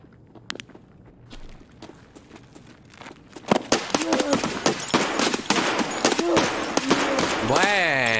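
Guns fire in the Escape From Tarkov video game: a few scattered shots early on, then a dense run of rapid, loud reports from about halfway through, mixed with shuffling movement sounds.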